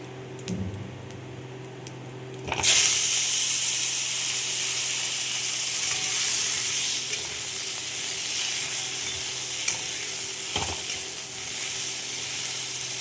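Potato and cauliflower pieces dropped into hot oil with cumin in a pan, a sudden loud sizzle that settles into a steady close frying hiss with occasional clinks of stirring.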